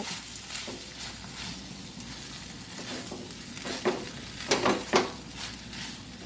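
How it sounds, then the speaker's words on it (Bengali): Rice with sugar and salt frying in a pan, a steady close sizzle with faint stirring scrapes, and a few sharper spatula knocks near the end. "এবার চিনি আর নুন আর রাইস সম্পূর্ণ ভালো করে ভাজা ভাজা হতে দেব।"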